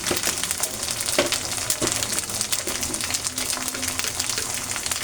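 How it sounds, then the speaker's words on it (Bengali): Ginger garlic paste sizzles and fries in hot oil in a pan, a steady crackling hiss with occasional stirring scrapes, continuous and close. "এখন এটা আমি তেলের সাথে ভালো করে ভেজে নেব"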